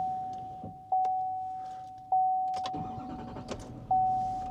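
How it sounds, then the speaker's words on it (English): A truck's starter cranks in short bursts with pauses between attempts before the engine catches, heard close and fairly loud over a faint steady tone, with no talking. "Hopefully now, the truck will start."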